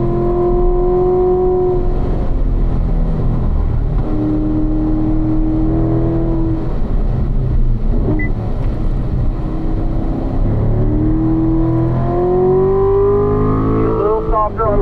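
A car accelerating hard around a race track during a driving session, its engine note climbing and rising in repeated pulls, loud and steady throughout, with a coach talking over the engine noise.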